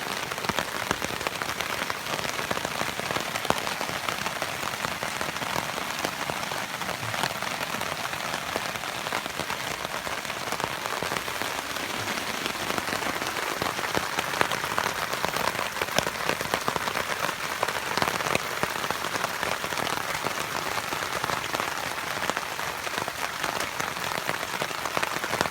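Heavy rain falls at a riverbank hammock camp, a dense, steady hiss of drops pattering on surfaces that continues unbroken and loud throughout.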